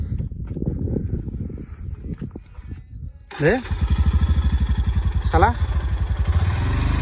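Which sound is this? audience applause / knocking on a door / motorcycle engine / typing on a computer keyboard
motorcycle engine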